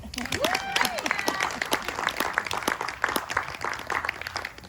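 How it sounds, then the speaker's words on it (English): Audience at a cabaret show clapping steadily, with a voice briefly singing or calling out over the applause near the start. "You can clap now."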